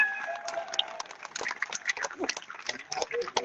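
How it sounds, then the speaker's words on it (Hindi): Audience at a seminar gives a brief round of scattered applause, fairly faint and uneven, with a voice at the start. "सबसे पहले इसके लिए अविनाश झा जी के लिए एक ताली होनी चाहिए।"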